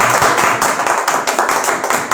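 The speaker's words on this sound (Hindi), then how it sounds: "आज हम मुकद्दसा मरियम के नाम की तालियां" Church congregation clapping together in honour of Holy Mary, loud, full-room clapping with a steady, rhythmic beat that fills the space without any voices on top.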